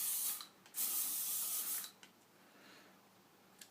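Hairspray mists onto a doughnut-style hair bun in two long, close bursts of hissing spray, followed by quieter rustling and a faint short spritz at the end.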